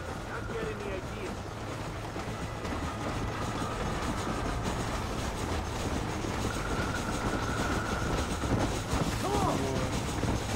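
Train running on rails in Red Dead Redemption, a steady rumbling roll with faint rhythmic clatter and a low engine drone lasting throughout, with game sounds and a voice talking over it.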